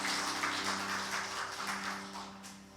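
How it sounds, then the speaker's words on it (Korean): A church congregation claps for the young adults' group during a worship service, a dense, even patter of many hands fading slightly toward the end, with a steady low hum beneath. "우리 단비 청년부 모두에게 큰 박수 한번 해주셨으면 좋겠습니다."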